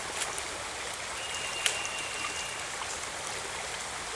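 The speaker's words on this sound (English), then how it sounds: "The filter is so fine that you have to bag it so you squeeze it through there" Creek water is squeezed through a fine filter bag, giving a continuous soft trickling, splashing hiss at close range with one brief sharper click midway.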